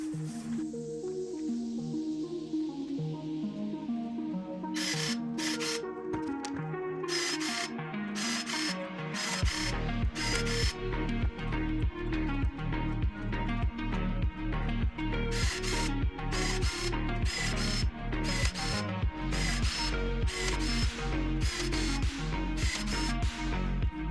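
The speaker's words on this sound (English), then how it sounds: "I'm gonna go the easy route on this right here, and I'm gonna do pulled rivets." A rivet gun pulls rivets on a RANS S-21 aircraft forward baggage area, firing repeated sharp mechanical pulls in a quick, even rhythm over a constant whirring background.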